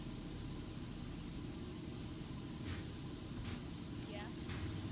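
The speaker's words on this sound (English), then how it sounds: "anyone who tunes in and just listens to this, it's an amazing white noise generator" A car wash pressure washer sprays steadily, producing a dense, constant white-noise hiss up close, with brief squeaky sounds layered over it.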